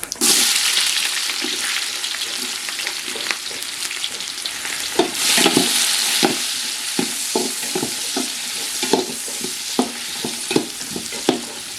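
Onions and green chilies frying in a pan with fennel seeds, a steady loud sizzle broken by repeated scraping stirs through the middle and end, with no voices.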